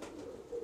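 A brief, soft coo from an old blue female pigeon held in the hand at a pigeon loft in Zemun. It is a single low, close call lasting under a second.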